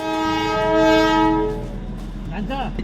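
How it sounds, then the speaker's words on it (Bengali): A Darjeeling toy train pulls into Kurseong station, its horn blaring loud and close in a long sustained tone that fades into rumbling rail and street noise, with brief voices after. "কারণ হঠাৎ করে টয় ট্রেন ঢুকে গেছিল"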